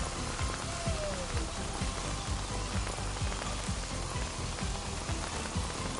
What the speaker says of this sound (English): That's a cool effect. Is it called hailing?